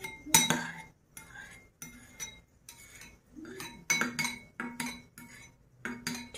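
A knife clinks and taps against a plate while cutting set jelly into small cubes for falooda, giving a series of sharp, close, irregular chinks separated by short pauses.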